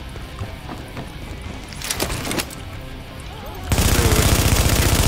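Gunfire in the video game The Division: a short scattered burst of shots, then a sustained, dense rapid-fire volley that sounds loud and close.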